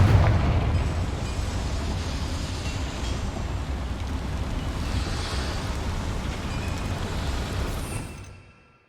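A Confringo spell blast in Hogwarts Legacy inside a mine with boilers, a loud rumbling roar that starts with a heavy burst, holds as a broad churning rush, then fades out.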